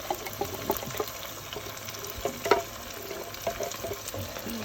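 Crushed tomatoes get stirred into a shrimp vodka sauce in a pan, wet scraping and squelching strokes with faint sizzling underneath, irregular and close.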